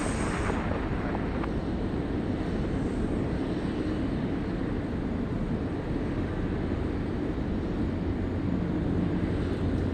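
British Airways airliner at Sydney Airport, a loud, steady broadband jet roar that holds evenly throughout, close and continuous with no voices over it.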